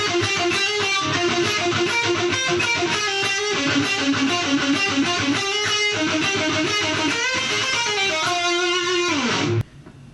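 Distorted electric guitar playing the second-verse part of a song, a continuous dense riff with a driving rhythm, loud and up front, cutting off sharply near the end.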